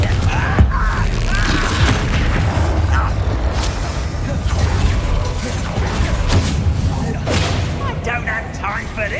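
A Confringo fire spell explodes amid a Hogwarts Legacy battle, with loud repeated booms and blasts over dense continuous combat noise while a voice talks throughout.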